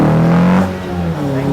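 A car revs and accelerates hard, a loud close engine roar that rises in pitch and then settles, with a voice faintly heard beneath.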